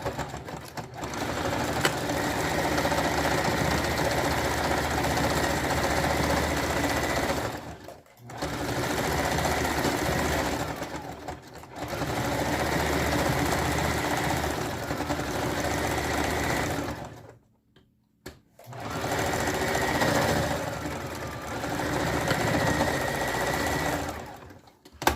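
Sewing machine stitching the crotch seam of a leotard made from a jersey, a steady loud motor whir in long bursts with brief pauses between runs.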